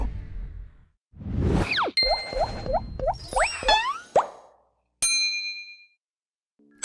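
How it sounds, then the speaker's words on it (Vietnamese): Magical phone ringing effect from a TV show, a bright sequence of sliding chimes, dings and plops with whooshes, ringing in bursts over several seconds before a final sparkling ding. "Cái gì kêu vậy? Hả? Điện thoại ông bơ của tôi đó"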